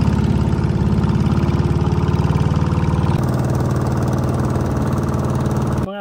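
A boat engine runs steadily at a constant loud drone with a fast rhythmic chug and no voices, close by for the whole stretch.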